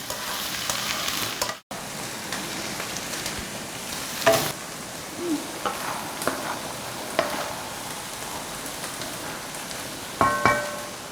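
Tomatoes soften in a hot pan with a continuous soft sizzle and crackle, broken by a few louder stirring clatters and scrapes; no voices.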